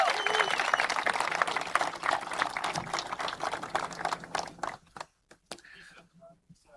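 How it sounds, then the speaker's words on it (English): An audience at a press conference gives Lisa another round of applause. The clapping is moderately loud and thins into scattered claps before fading out after about five seconds. "Give her another round of applause."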